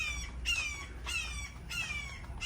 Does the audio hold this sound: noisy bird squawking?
yes